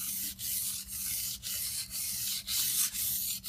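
A knife blade stroked repeatedly across a sharpening stone at a held angle of about 12 degrees to reach the secondary bevel, giving a steady rhythm of about seven smooth rasping passes with short gaps between them, close by and with no speech.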